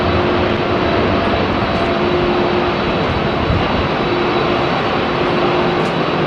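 Boeing 767-400 jet departing London Heathrow runway 27R under a low cloud base, a steady loud engine roar with a faint tonal whine running through it, continuous and unbroken, no voices.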